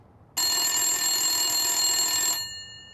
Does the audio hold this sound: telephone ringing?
yes